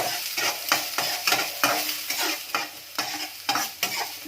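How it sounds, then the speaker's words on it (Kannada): Green chillies stir-fried in a pan over a low flame for egg bhurji, a soft continuous sizzle punctuated by rhythmic spatula scrapes about twice a second, close up and without any voices. "ಇದನ್ನ ಲೋ ಫ್ಲೇಮ್ ಮೇಲೆ ಈ ರೀತಿ ರೌಂಡ್ ಫ್ರೈ ಮಾಡಬೇಕು."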